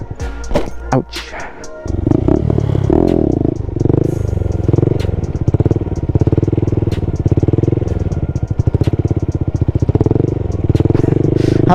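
A Honda Grom stunt motorcycle's small single-cylinder engine revs and holds a steady, throbbing drone during a wheelie, close and loud, with rapid pulsing firing and brief throttle swells and dips.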